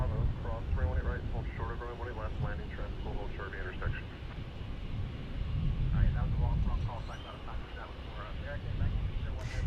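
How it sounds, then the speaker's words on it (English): An American Airlines Airbus A321neo takes off at a busy airport, a steady low jet rumble running under continuous nearby conversation. "There's A321neo taking off"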